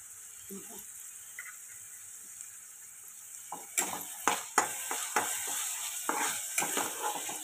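Tomatoes and raw ground chillies hit a hot pan on a high flame for a quick dry chicken dish, bringing a steady sizzle punctuated by repeated scraping stirs that grow louder and more frequent midway.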